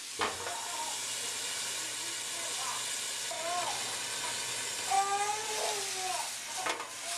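Chicken cooking with Marsala wine in a covered pan gives a steady, moderate sizzle and hiss, with occasional squeaks of utensils or the lid over the top.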